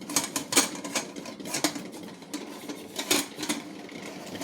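Metal clinks and clatters as a pressure cooker lid is pressed down and fitted shut, a rapid series of close, bright knocks and scrapes.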